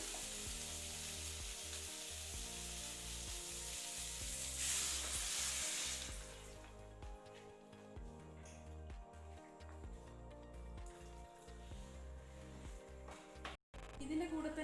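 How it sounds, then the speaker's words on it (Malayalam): Chilli chicken ingredients sautéing in a pan, with a steady sizzle and frying hiss throughout and brief stirring scrapes, briefly louder near the start. "ഇതെല്ലാം കൂടി 2 മിനിറ്റ് വഴറ്റിയെടുക്കാം"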